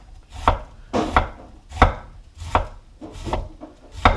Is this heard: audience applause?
no